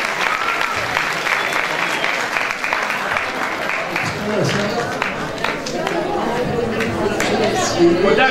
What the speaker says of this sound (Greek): Το χειροκρότημα σας.